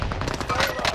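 A gunshot in the World War II shooter Warzone Pacific, fired at an enemy's back, sounds as a dense burst of loud, sharp reports packed into under a second, close and punchy against busy game noise.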